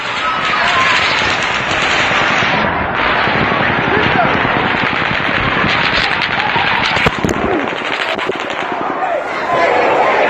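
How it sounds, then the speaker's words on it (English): Rapid bursts of automatic gunfire during the Las Vegas mass shooting at a country music festival, dense crackling shots echoing over crowd noise and screams, with brief pauses between volleys. "The gunman pulled the trigger a third time."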